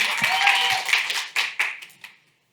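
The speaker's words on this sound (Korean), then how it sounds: "큰 박수로 맞아주시기 바랍니다." An audience at a public training contest applauds to welcome presenters; a dense burst of clapping thins into a few scattered claps and fades to silence within about two seconds.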